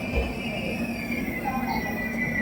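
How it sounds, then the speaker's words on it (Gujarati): Low rumble of a train rolling in at a station, with a steady mechanical drone and faint high squeal; voices murmur in the background. "ફાઇનલી ટ્રેન આવી ગઈ"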